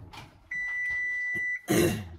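A kitchen oven timer gives one long, steady electronic beep lasting about a second, followed by a louder burst of clatter.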